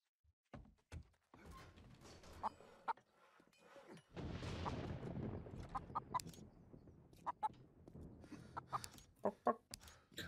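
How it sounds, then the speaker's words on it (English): Chickens clucking at a farm in the video game 7 Days to Die, scattered short clucks and thunks repeating throughout over a quiet background, with a longer noisy rush midway. "Them chickens are annoying the shit out of me."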